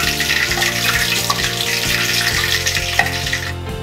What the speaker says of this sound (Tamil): நல்லா ஃப்ரை ஆகிடுச்சு. இப்போ இதை எடுக்க போகிறோம்.